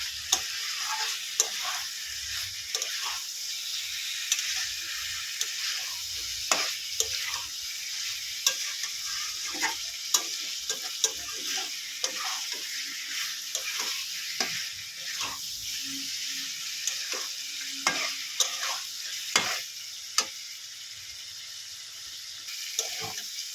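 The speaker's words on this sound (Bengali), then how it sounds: "এবারে এর মধ্যে আমি সিম আলু ভেজে রাখাটা দিয়ে দিই দিয়ে ভালো করে মিলে পাঁচে কষিয়ে নেয়" Fried flat beans and potatoes are sautéed in a pan with a soft, steady sizzle, broken by frequent light scrapes and clicks of a spatula stirring at an unhurried, uneven pace. The sound stays fairly quiet and close, with no voices.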